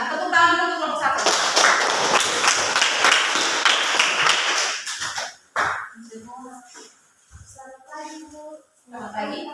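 A classroom full of students clapping for a presenting group, a dense burst of applause lasting several seconds, with talk before it and speech resuming after it fades.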